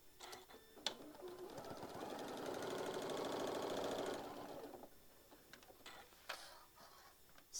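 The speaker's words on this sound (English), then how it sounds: "I'm just going to stitch it down right inside that edge right there" A sewing machine stitches fabric down just inside the edge of a tote bag: a fast, even mechanical whir that builds, holds for a few seconds and then stops, framed by scattered clicks and fabric handling.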